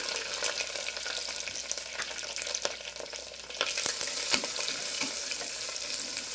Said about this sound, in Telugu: ఇప్పుడు మనము దంచి పెట్టుకున్నాం కదా తెల్లగడ్డలు ఫస్ట్ వేసేద్దాము.